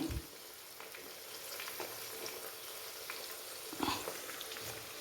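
Garlic frying in hot oil for lemon pickle, a steady close sizzle and crackle with a few stirring scrapes throughout, no voices.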